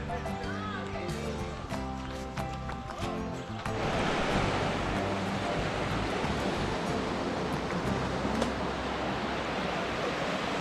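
River flowing beside a trekking trail in Tafí del Valle, a loud broadband rushing wash of water that becomes fuller and louder after a few seconds, with some voices and other sounds early on.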